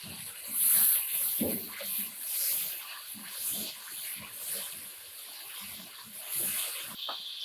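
Water is poured into keema frying in a cooking pan, giving splashy, hissing bursts that rise and fall over several seconds amid faint kitchen clatter.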